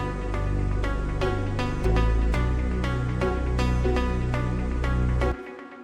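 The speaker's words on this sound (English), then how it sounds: "It's a pizzicato from Dance Orchestra." Synth pizzicato strings from the Dance Orchestra library in Nexus, layered into an Afro House groove: short, evenly spaced plucked notes ride over a thick low bass that shifts pitch partway through, loud and continuous, then cutting off near the end.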